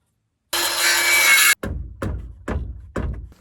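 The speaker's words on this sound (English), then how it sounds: "I gotta cut one, a 2x4 to go" A 2x4 wood board is cut with a power saw on a roofing job: one loud, steady second of motor whine, then four sharp, close bursts at an even pace, each trailing off into a low rumble.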